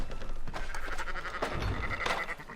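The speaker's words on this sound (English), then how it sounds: "Fine sheep." A sheep bleats in Red Dead Redemption 2 in a wavering cry over a dense, noisy background, the call rising clearly near the end.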